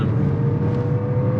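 A 2022 Lexus NX 350 F Sport accelerates hard from a standstill with turbo lag, its engine a steady, close, broadband drone heard from inside without talk.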